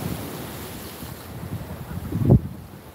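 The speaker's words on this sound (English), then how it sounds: "And there's the water." Ocean waves wash against Oistins Jetty in Barbados at sunset, a steady low surf rumble mixed with wind buffeting the microphone, with one louder wave surge near the end.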